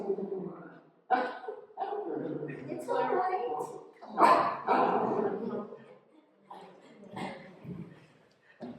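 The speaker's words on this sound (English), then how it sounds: "This is the artist's dog." An artist's dog makes yips, whimpers and short barks in an indoor setting, mixed in with close conversation that partly overlaps the sounds.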